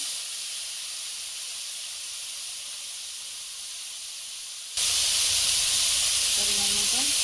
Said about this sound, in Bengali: টমেটো বাটাটা দিয়ে দিলাম,